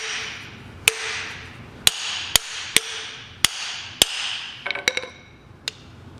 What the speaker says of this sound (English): What I'm going to do is strike the yoke itself